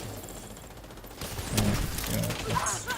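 Gunfire in the video game The Division: rapid automatic bursts erupt after a quieter stretch, crackling and mechanical, with sharp impact-like hits near the end, close and moderately loud.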